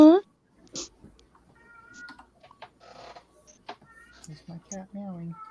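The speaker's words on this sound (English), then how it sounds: "There's my cat meowing." A house cat meows in a single sharp call at the start, with several shorter mewing sounds later, all close by while someone talks and types during a work livestream.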